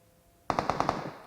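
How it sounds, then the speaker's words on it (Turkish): Automatic rifle fire in PUBG Mobile, an M416, fired as a rapid burst of five sharp, evenly spaced shots that cut in suddenly after near silence and ring out loud and close. "Yok diğer taraftan sıkıyorlar"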